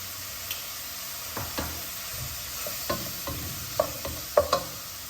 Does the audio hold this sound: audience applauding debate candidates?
no